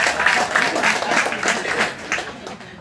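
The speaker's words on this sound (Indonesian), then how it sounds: "Tepuk tangan dulu Pak" Indoor audience applause in a sports hall during a police-sponsored Bhayangkara Cup tournament event at GOR Somplak, steady dense clapping sustained across the whole moment with a few faint voices mixed in.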